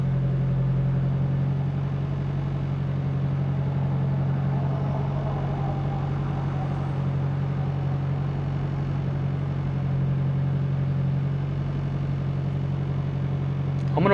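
A Toyota Celica engine idles while warming up, a steady low hum with a constant droning tone, close and even throughout, with a small bump in sound at the very end.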